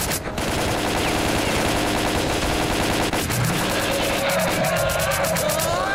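Sustained rapid gunfire in the video game S.T.A.L.K.E.R. Clear Sky, continuous bursts of automatic shots close and loud for the whole stretch, with dense crackling battle noise.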